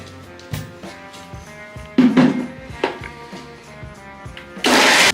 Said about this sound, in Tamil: இப்போ நம்ம இதை அரைச்சி எடுத்துகிட்டு வந்துடலாம்